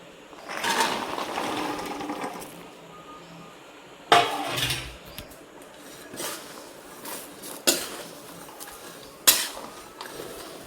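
Salted peanuts are stirred while roasting in a large pan, giving scraping and rattling strokes of nuts against metal at irregular intervals, with a few louder clanks standing out over a soft continuous rustle.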